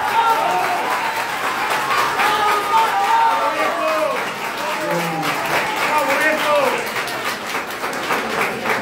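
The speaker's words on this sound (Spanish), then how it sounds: "Vamos a tomar este último aplauso" Audience applauding at the close of a debate between mayoral candidates in Arrecifes, a steady wash of clapping with voices talking over it throughout.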